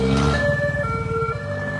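Rescue vehicle siren in Rayong, Thailand wailing close and loud in sweeping electronic tones, with traffic rumble underneath and no talk.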